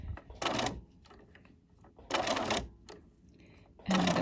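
A sewing machine stitching a curved seam in short bursts, three quick rattling runs of stitches separated by quiet pauses while the fabric is lifted and turned.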